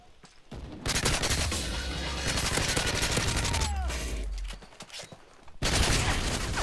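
Rapid bursts of gunfire in the video game Modern Warfare 3, loud and close, running almost continuously with a short lull near the end before a fresh burst.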